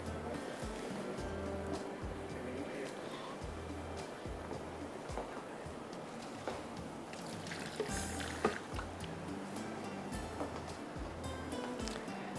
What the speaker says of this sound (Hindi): चलिए थोड़ा सा पानी डाल देंगे